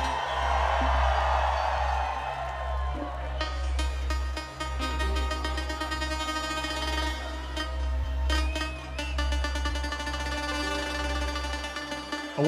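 A festival crowd roars and cheers at the Exit Festival main stage in Serbia, a broad wash of voices loudest at the start before booming live electronic music takes over, with the crowd noise continuing underneath.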